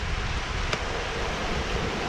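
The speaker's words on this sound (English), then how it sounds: "or you won't hear me for the water" Loud, constant rushing water fills the short stretch, a broad roaring wash with no pauses.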